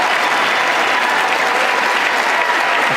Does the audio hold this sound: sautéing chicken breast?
no